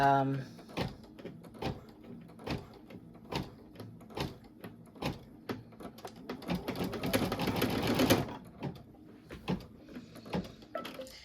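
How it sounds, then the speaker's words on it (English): A home embroidery sewing machine stitches a hot pad slowly in a hoop. It gives a steady run of rhythmic mechanical ticks and clatters, close and moderately loud, with a denser burst of whirring near the end. "by holding the button down, it's going to stitch very slow"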